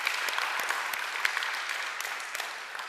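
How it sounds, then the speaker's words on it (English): A room full of people clapping at a reading program's closing ceremony, a steady wash of applause with a few sharper individual claps standing out. "Let's applaud that."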